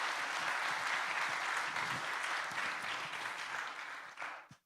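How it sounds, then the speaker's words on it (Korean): A church congregation applauds at a Korean Presbyterian installation service for deacons and elders, a dense, steady wash of many hands clapping for several seconds that thins and stops abruptly near the end. "박수로 축하하겠습니다."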